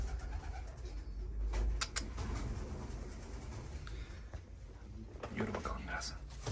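Young yellow Rostov pigeons coo in a loft, soft throaty calls mixed with rustling and clicking movement, while voices talk in the background.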